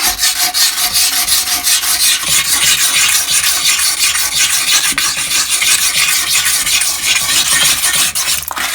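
A pumice stick scrubs hard-water mineral build-up inside a badly stained toilet bowl, giving a steady, dense grinding rasp that runs nonstop and close throughout, with no talking.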